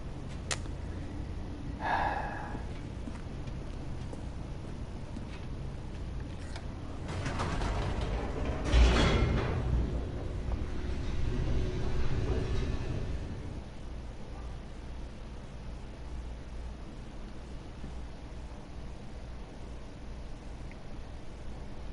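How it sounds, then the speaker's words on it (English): Elevator plunging downward in The Stanley Parable: Ultra Deluxe, a low mechanical rumble with creaks and ratcheting that swells into a heavy surge midway, then settles back to a steady hum. "The elevator raced downward, plummeting towards an unknown fate."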